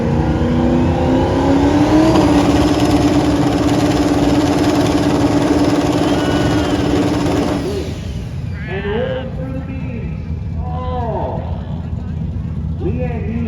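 A drag racing car's engine revs loudly and steadily at the starting line of a drag strip, then drops away to a lower rumble while people talk over it.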